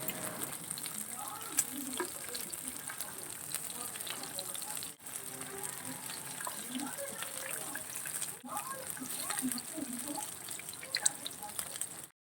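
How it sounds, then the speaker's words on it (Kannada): Fish frying in a pan, a steady dense sizzle and crackle running throughout with occasional stirring clatter, moderately loud, while a mushroom curry is being prepared nearby. "ಈ ಕಡೆಯಿಂದ ಫಿಶ್ ಫ್ರೈ ಕೂಡ ಆಗ್ತಾ ಇದೆ"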